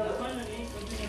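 Water is poured over a dove cage to rinse it, a steady close splashing and trickling wash running continuously for about a second.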